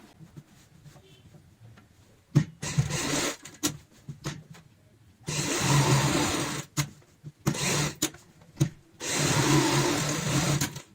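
A household sewing machine stitches fabric for a stylish ladies' party bag, running in several bursts of rapid mechanical whirring separated by short pauses and light handling clicks, close by with no talk.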